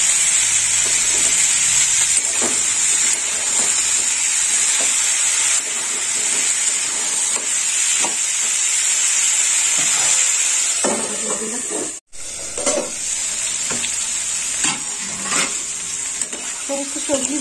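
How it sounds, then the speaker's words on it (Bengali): Cauliflower, beans and peas frying together in a pan, a loud, continuous hissing sizzle with stirring scrapes and occasional pops, briefly cut off near the end before resuming. "সমস্ত সবজি ভাজা হয়ে গেছে"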